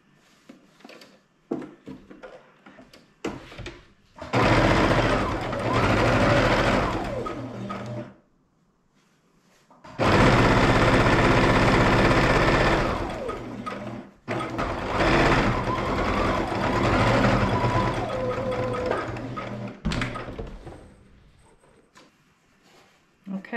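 A Baby Lock Jazz II sewing machine stitches fabric seams for scrap quilting in three long, loud bursts of steady motor whir, separated by pauses with handling clicks and brief soft talk.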